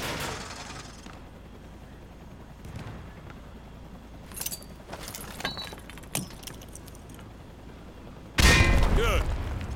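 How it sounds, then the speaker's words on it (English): Frag grenades tossed down a firing range in Call of Duty Modern Warfare 2, with scattered clinks and small impacts before one loud, close explosion bursts near the end and lingers. "Toss the grenade down the range to take out several targets at once"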